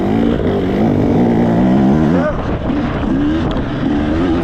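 A 2024 KTM hard enduro motorcycle held on the throttle during a sprint enduro race, a loud, steady rasping engine drone close to the rider, with pitch rising and falling as the revs shift and wind rushing behind it.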